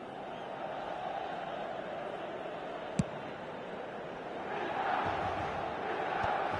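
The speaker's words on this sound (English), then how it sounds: "it certainly got the crowd going" A football stadium crowd roars in a broad, sustained wash after a near goal in a Milan versus Corinthians match, swelling louder toward the end, with a single sharp thud partway through.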